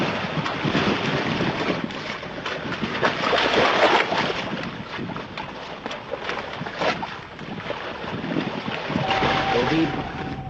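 Trawler crossing the open sea near the Sandwip coastline, its engine drone and rushing water loud and steady amid heavy wind buffeting, with a brief thin tone near the end.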